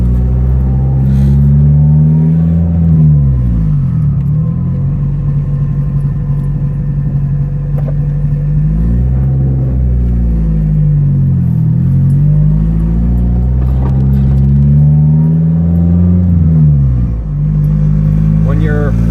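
The turbocharged engine of a 1993 Honda Civic idles with a loud, close rumble, then is revved up and allowed to fall back several times in a repeating rise-and-drop pattern.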